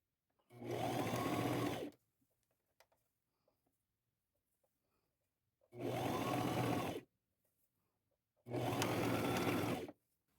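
A sewing machine stitches denim patchwork for a poncho in three close, loud bursts of rapid whirring, each lasting one to two seconds, separated by quiet pauses with faint handling clicks.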